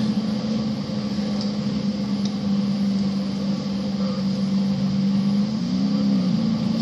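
An AI-driven car in a video game holds a steady, droning engine tone over faint road noise, the pitch briefly rising and falling near the end, with no speech.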